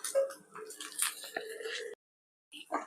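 Fresh, washed baby prawns slide into a pan of onions with soft wet squishes and a brief sizzle, followed by a pause and a short burst of clatter.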